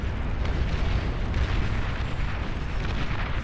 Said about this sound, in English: A lot of shells just hitting indiscriminately all over the ground.